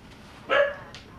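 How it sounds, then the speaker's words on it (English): A dog gives a single short bark at moderate distance, a brief burst standing out against a quiet background with a faint trailing yip after it. "I have a racist dog and he's barking during that?"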